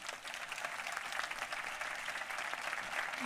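Steady applause from an audience at a summer film-music concert by a band, a dense continuous patter of clapping held at an even level throughout.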